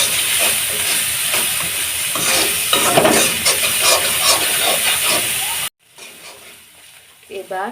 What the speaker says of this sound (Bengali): পেঁয়াজ মরিচগুলো ভালোভাবে ভাজে নিব